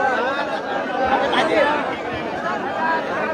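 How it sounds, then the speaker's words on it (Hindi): Dense chatter from a large crowd gathered at a political rally in Chauparan, a steady murmur of many voices throughout with no single speaker standing out. "लोगों का भारी हुजूम"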